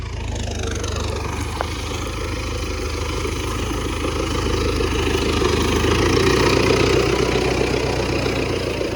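A tractor plowing a field with a Veles Agro 2+1 plough, its engine droning steadily and loudly at an even pitch throughout, with a low rumble and a faint mechanical whine underneath.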